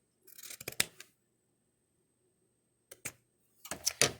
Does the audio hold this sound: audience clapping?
no